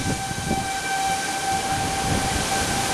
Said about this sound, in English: tornado sirens going off